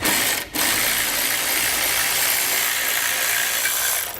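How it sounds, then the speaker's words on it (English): A ratchet fitted with a 12mm socket loosens bolts on a 2017 Toyota RAV4 while a trailer hitch is being installed, a steady continuous clicking run lasting the whole stretch with one brief pause near the start, close and fairly loud. "I'm going to grab a 12mm socket. I'm going to pull those 2 bolts out so we can remove the rod."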